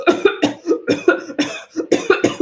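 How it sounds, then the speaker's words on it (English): Repeated harsh, rough coughs in quick succession from one nearby person, a rapid rhythmic string of hacking bursts. "that's just a bad cough"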